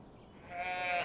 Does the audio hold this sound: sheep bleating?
yes